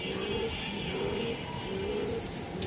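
Racing pigeons at a club sale coo in low, soft repeated calls, a few drawn-out murmurs over a constant noisy background hum, fairly faint and with no speech.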